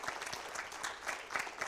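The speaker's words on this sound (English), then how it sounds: "Let's give them all another round of applause" A church congregation at a Sunday morning service claps together, a short burst of applause from a small crowd with uneven, rippling claps.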